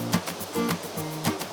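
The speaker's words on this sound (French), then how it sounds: "La première des choses que vous entendrez quand vous viendrez, c'est le bruit du ruisseau" A stream with a small waterfall beside a dam rushes steadily, its close, splashing flow rising and falling in soft surges with no voices over it.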